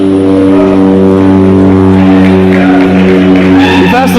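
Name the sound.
jet aircraft flying past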